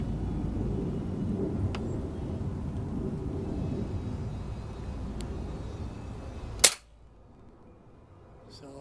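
A single sharp, loud crack from an air rifle firing a 10.6 pellet cuts through steady background noise, followed by near silence.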